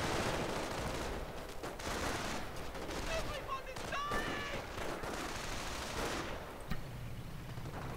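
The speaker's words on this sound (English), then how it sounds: "I'm not sure that machine gun is not ever suppressing the guys" Machine gun fire in a World War II strategy video game, bursts and scattered shots over a dense battle din, with voices and other gunfire mixed in.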